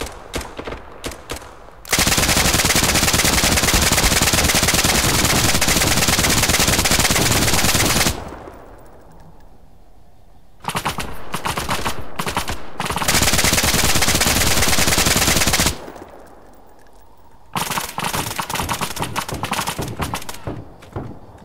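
Heavy machine gun fire in a video game, loud sustained bursts of rapid shots broken by short pauses, with a few scattered single thumps between volleys.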